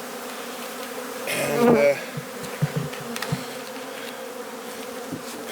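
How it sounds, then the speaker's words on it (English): Honey bees buzz loudly as they are shaken off a hive frame during an inspection, a brief swell of agitated humming that settles into a steady drone with soft knocks, and someone speaks briefly. "shake these bees off this frame"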